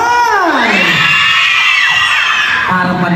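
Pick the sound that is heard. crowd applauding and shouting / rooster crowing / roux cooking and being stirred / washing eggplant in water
crowd applauding and shouting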